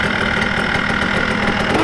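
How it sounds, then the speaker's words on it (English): A small engine runs at a close, loud, steady idle with a slightly knocking, vibrating mechanical rumble throughout and no voices. "Fires up."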